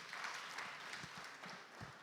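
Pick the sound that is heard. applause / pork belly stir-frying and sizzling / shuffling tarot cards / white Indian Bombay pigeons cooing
applause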